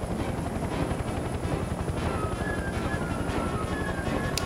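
A helicopter's steady rotor drone and engine roar in the video game Mercenaries 2: World in Flames fill the whole stretch, loud and constant, with a faint high whine drifting in partway through.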